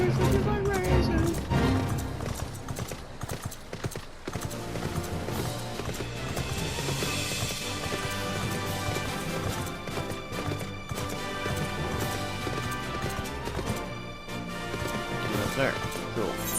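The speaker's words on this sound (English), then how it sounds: "I got my horse. Look at my horse." A mount gallops in Final Fantasy XIV, rapid hoof clip-clops running continuously under game music and effects, with a voice talking over it.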